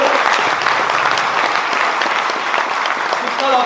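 A full crowd at a rally against pension reform claps loudly and without pause, a thick, even roar of applause that holds steady throughout, with a faint voice rising near the end.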